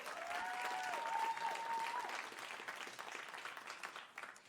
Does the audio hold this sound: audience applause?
yes